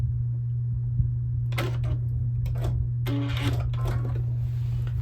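A sewing machine stitches quilt binding at a 45-degree angle off the corner of a quilt, a steady hum with two short bursts of rapid needle stitching, close and alone.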